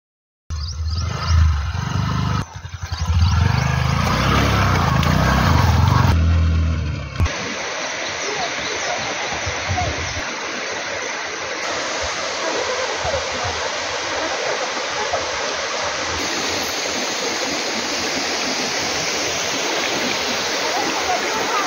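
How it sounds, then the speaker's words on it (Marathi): Dhurnali waterfall in Junnar taluka, where the falling water throws up smoke-like mist, roars as a dense, steady wash. Low rumbling and a voice come first, then the full roar sounds close and continuous. "त्याचं नावच पडलंय धुरनाळीचा धबधबा, म्हणजे पाणी पडल्यानंतर धूर असा तयार होतो"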